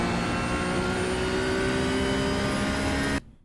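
A Porsche GT3 Cup race car in the iRacing simulator at the Sebring circuit holds full throttle, its engine a steady, loud, high-revving drone that cuts off abruptly near the end.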